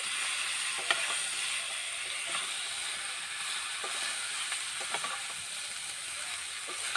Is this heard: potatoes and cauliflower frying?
yes